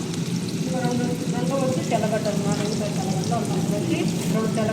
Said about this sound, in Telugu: ఇది కూడా వేపుతుంది బాగా